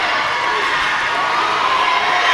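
Crowd in a school gym at a 5A bi-district girls' high school volleyball playoff match erupts in loud, sustained cheering and shouting, a dense roar of many voices with excited whoops throughout.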